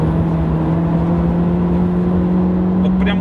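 A Nissan Sentra driven at full throttle in winter, its engine giving a steady, loud, even drone with a constant low hum throughout and no talk.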